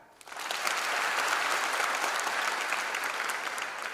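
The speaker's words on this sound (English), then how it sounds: "Can everybody clap?" An audience at a college freshers' induction program claps together in a sustained, even burst of applause that starts abruptly and holds steady, moderately distant.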